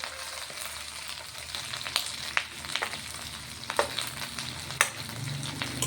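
Drumstick (moringa) leaves and cumin fry in oil with a steady, close sizzle, broken by occasional sharp scrapes and taps of stirring in the pan.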